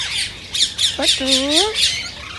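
Rose-ringed parakeet squawking up close during speech training, a string of loud harsh calls with a few rising whistled notes in the middle, no talk over them.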